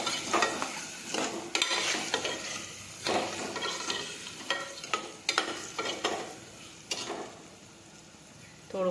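A spoon scrapes and stirs ridge gourd and potato curry with salt and sugar in a cooking pot, giving repeated soft clatters and scrapes at an uneven rhythm, close and fairly quiet.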